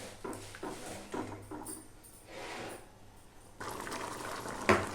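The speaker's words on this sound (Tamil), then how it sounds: "ஒரு கொதி வரட்டும் ஒரு கொதி வந்துச்சுன்னா ரெடி ஆகிடும்" Buttermilk curry (mor kuzhambu) made with sour curd simmers and bubbles in a pot, giving a steady watery bubbling and gurgling texture with a few brief clinks and a sharp knock near the end.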